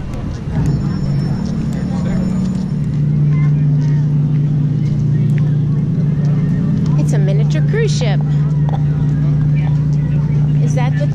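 Large boat passing at Chicago's Navy Pier, its steady low engine drone loud and continuous throughout, with water and crowd noise around it and people talking over it.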